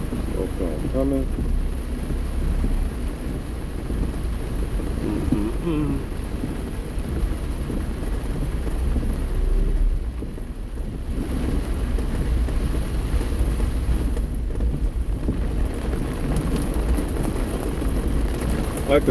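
Steady rain drums on a car while driving, with low rumbling thunder-like noise beneath it throughout, loud and continuous without pause.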